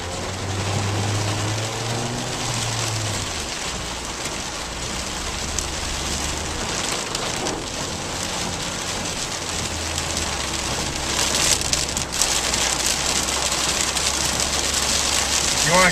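Heavy rain pelts a car during a hail storm at Love Valley, a dense steady drumming on the body and roof over a low idling hum, growing slightly louder near the end.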